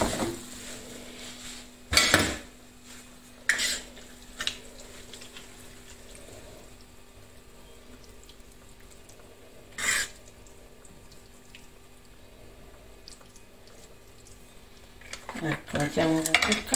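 Dishes and cutlery clink in a few sharp, separate knocks while tagliatelle with mussels is plated, with quiet pauses between the clinks and a busier clatter at the end.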